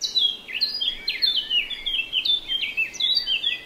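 Lovebirds chirp in a quick, busy stream of high, sharp tweets and short trills that overlap almost without pause, close and fairly clear against a quiet background.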